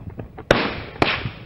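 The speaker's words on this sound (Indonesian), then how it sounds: "Polisi terpaksa melepaskan tembakan peringatan saat kedua pelaku masuk ke dalam hutan" Two sharp, loud police warning gunshot cracks about half a second apart ring out near a forest, each trailing into a brief echo, with faint knocking before them.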